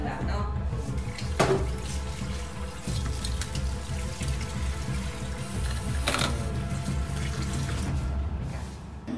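Water runs steadily from a tap in a condo kitchen or bathroom, a continuous close rushing hiss with a couple of brief clanks, no talk.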